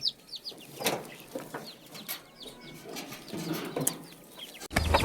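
A flock of chickens clucks and squawks close by on a farm as they are fed spinach, overlapping busily, with some rustling and a sudden louder thump near the end.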